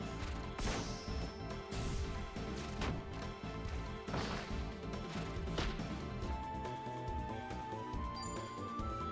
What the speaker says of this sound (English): Go ahead and smash.